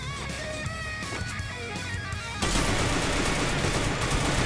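An M590 pump shotgun fires in the Free Fire battle game, with a loud burst of gunfire and a dense blast of noise that starts abruptly midway and holds steady to the end over earlier in-game tones.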